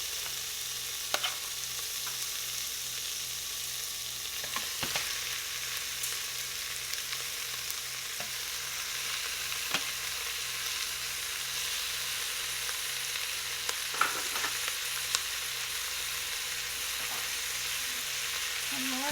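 Beef frying in a pan with onions, a steady, even sizzle held at close range for the whole stretch, broken by faint occasional stirring clicks.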